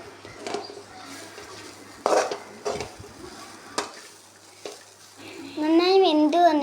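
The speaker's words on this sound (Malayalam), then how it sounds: "അടപ്പ് തുറന്ന് നന്നായി ഇളക്കി കൊടുക്കാം." Banana blossom thoran stirred in a pan, with scattered spatula scrapes and clanks against the metal at uneven intervals, then a voice rising near the end.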